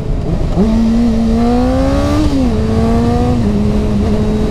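A Honda CBR 600 RR motorcycle restricted to 48 PS, shifted without the clutch, holds a loud, steady engine tone that climbs and then drops sharply twice as it changes gears, heard up close with no talk.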